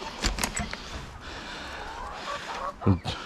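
Chickens cluck and honk in short bursts while pecking at beans, a few louder calls standing out near the end over steady background noise.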